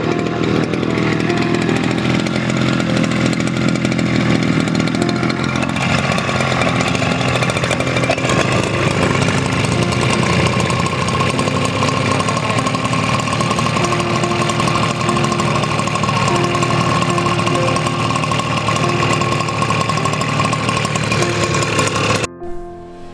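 A motorized crop sprayer engine runs in a rice field, a loud, close, steady buzzing drone with a rough chainsaw-like edge that holds for the whole stretch and cuts off abruptly near the end, with no talking.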